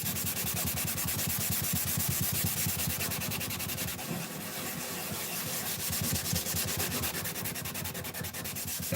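Scrubbing cloth rubbed back and forth over old dusty wood, a steady rapid rasping stroke rhythm, close and loud throughout with a brief pause near the middle.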